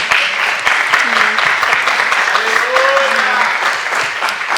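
A church congregation applauds at an evening service, a dense, steady clapping that runs for several seconds, with a few voices calling out underneath.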